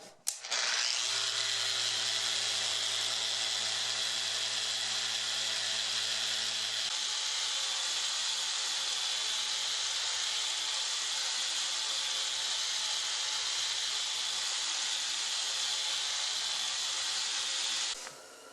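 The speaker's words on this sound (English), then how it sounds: "This is also a good time to sand the face and take any wee little discrepancies out of there." A power sander works over the face of a wooden board, a loud, steady whine and rasp holding for most of the stretch and cutting off near the end, with no voices.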